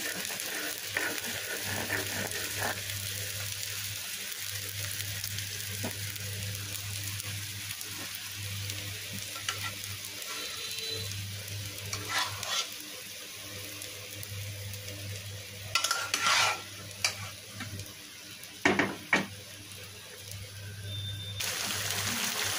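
Thai sarputi fish being gently stirred into bubbling masala in a pan over lowered heat, a soft continuous sizzle with a low hum beneath and a few brief scraping bursts near the end.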